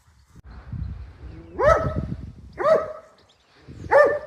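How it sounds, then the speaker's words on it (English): Dogs barking outdoors: three clear, separate barks about a second apart, moderately close, with quieter low rumbling sounds in between. "Them dogs are friendly, aren't they?"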